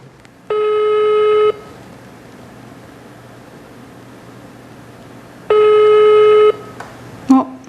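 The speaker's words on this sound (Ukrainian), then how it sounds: "Давайте зателефонуємо туди." An outgoing phone call rings unanswered: two long, loud ringback tones about a second each, separated by a four-second gap of quiet line hiss, then a brief click at the end.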